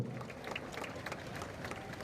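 Audience clapping at a youth wing rally event, a dense steady patter of many hands continuing throughout at moderate distance.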